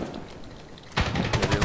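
Rifle fire in the shooter Medal of Honor (2010), quiet background for a moment, then a loud burst of rapid automatic shots with heavy close reports.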